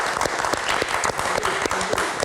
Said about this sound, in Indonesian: Kita berikan tepuk tangan untuk Ustadz Denis.